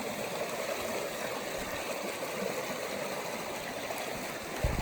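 A small stream flows with a steady, broadband rushing and babbling wash, continuous and fairly close, with no talking over it.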